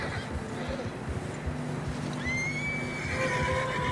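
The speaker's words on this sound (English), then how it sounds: "Horses struggling." A horse in Red Dead Redemption 2 whinnies loudly while struggling through deep fresh snow, its drawn-out neigh rising over a steady background of game ambience and low music.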